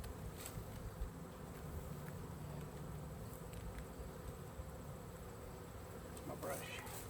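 Honey bees buzzing around hive frames during a honey harvest, a continuous close hum of many insects with a few louder passes near the microphone, faint talk underneath.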